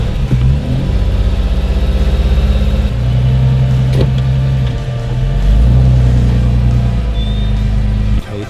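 A competition car's engine idles loud and close, then revs up and holds in sustained throaty surges while the car struggles to get into gear, a steady low rumble throughout with no talking.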